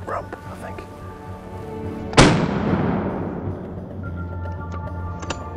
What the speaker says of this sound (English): As shots ring out in the distance,